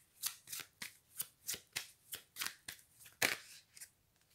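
A deck of tarot cards is shuffled by hand in a quiet room: about a dozen crisp, evenly spaced riffles and flicks, close and fairly soft, with no talking.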